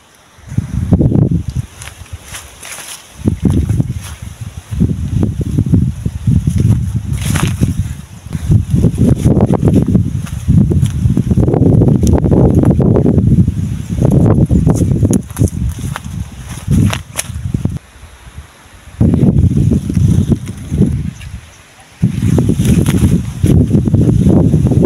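Gusty wind buffets the microphone outdoors while a kite flies, coming in loud rumbling bursts that surge and drop away every few seconds, with brief quieter lulls between gusts.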